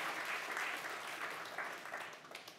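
Church congregation applause at a worship service, a soft, distant, steady patter of clapping that tapers slightly over a few seconds.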